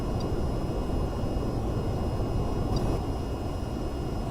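Steady, continuous roar of an aircraft engine in the VR flight game VTOL VR, a broad even drone held at constant level throughout with faint high tonal whine lines above it, no talk.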